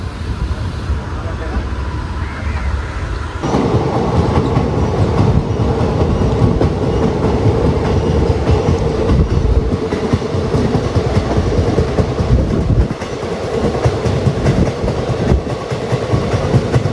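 Train running along the track through Kerala, heard from inside or near the carriage as a loud, continuous rumble with rattling clickety-clack, the noise swelling sharply a few seconds in and holding steady throughout.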